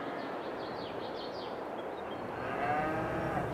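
Cattle in a pasture in the Farming Simulator 22 video game on PS5 moo in long, drawn-out calls over a steady ambient farm background, with faint bird chirps mixed in.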